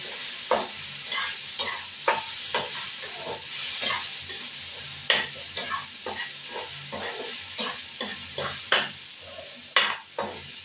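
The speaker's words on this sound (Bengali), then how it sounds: "আলুটা ভাজা হয়ে গেছে" Potato pieces frying in hot oil in a pan, stirred with a utensil, giving a constant sizzle broken by frequent sharp scraping and clattering strokes at an irregular rhythm, close and clear with no talk.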